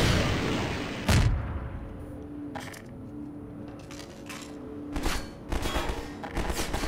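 Enemy gunfire in Half-Life 2, heard as scattered sharp shots and clattering impacts, one loud burst early and a cluster of cracks near the end, with quieter stretches between.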